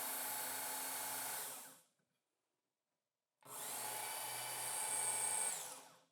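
A Ken Onion Work Sharp KTS Mk.2 powered knife sharpener whirs loudly as a blade is drawn through it, stops for over a second of silence, then starts up again with a steady grinding hum.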